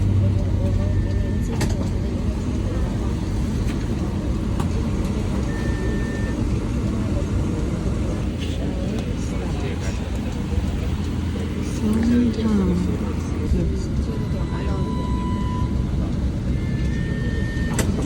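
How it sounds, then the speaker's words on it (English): Traffic at a Bangkok bus station serving Pattaya-bound buses: a continuous low rumble of idling and passing heavy vehicles with scattered clanks and background noise, steady throughout without clear individual events. "they use the buses that are going to Pattaya at this particular station"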